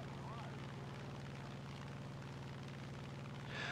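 A P-47D fighter plane in War Thunder arcade combat, its radial engine droning steadily at a constant faint level throughout with a slight swell at the end, under narration.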